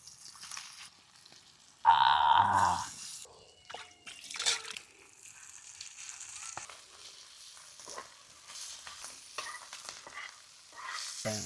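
Mussels dropped into hot oil in a pan over a village cooking fire burst into a loud sizzle, then settle into softer crackling and stirring with scattered drips and pops, fairly close and without talk.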